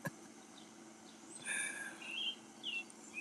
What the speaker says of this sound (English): The birds sound nice this morning.